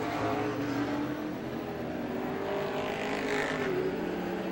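Race cars roar continuously around the oval at Star Speedway during a 1993 feature, a steady loud engine drone with a rising whine as cars pass close by.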